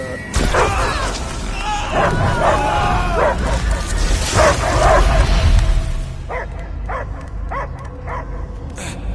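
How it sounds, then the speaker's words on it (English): A dog barks several times in short, sharp bursts toward the end, after a busy, noisy stretch that sounds like voices and movement. "I hear only barking."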